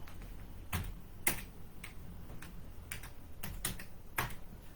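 Someone types on a computer keyboard, with about a dozen crisp, uneven key clicks in a quiet room and no speech.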